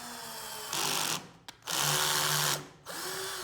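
A THE BLACK TOOLS TB12A cordless drill-driver set to clutch 3 whirs loudly as it drives a screw, running in two close bursts with a brief stop between and a clutch click, then a lower-pitched motor hum.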